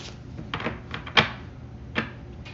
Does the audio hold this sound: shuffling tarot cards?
yes